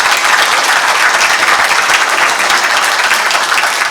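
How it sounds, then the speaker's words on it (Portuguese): Audience at a forum on Amazon forests and communities breaks into loud, dense applause welcoming a government minister on stage, steady clapping throughout. "Uma salva de palmas."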